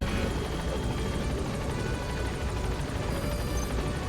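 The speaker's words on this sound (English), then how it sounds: "Oh boy, the helicopter." A helicopter in the stealth action game Metal Gear Solid V, a close, loud, continuous rotor thump and turbine whine that holds steady throughout without any speech.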